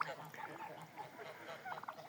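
Geese kept in an autumn farmyard enclosure give a few nasal honks and cackles nearby, mixed with a person talking quietly.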